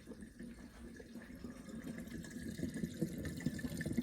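Aquarium sump return pump pushing water back into a trigger fish tank system, giving a soft continuous gurgle and trickle, fairly quiet and close, growing slightly louder with bubbling pulses.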